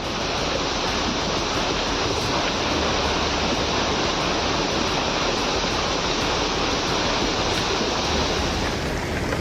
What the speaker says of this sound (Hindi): कहीं रिहायशी बस्तियों में किसी नदी की तरह मलबा बह रहा है।